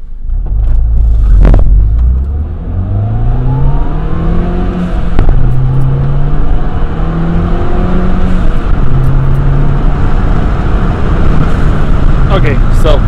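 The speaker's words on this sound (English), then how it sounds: "Now we're gonna do another pull, 0 to 60, with the window just cracked open." A Mini Cooper with a cold air intake revs and climbs through the gears accelerating 0 to 60 in a steady, loud pull, window cracked open, with a constant low rumble of road and wind noise filling the cabin.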